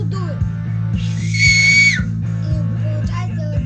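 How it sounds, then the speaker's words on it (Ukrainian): A loud, piercing whistle made with the tongue and mouth, held steadily for about a second and close by, sitting over a constant low mechanical hum with faint vocal sounds around it. "І виходить дуже гучний свист."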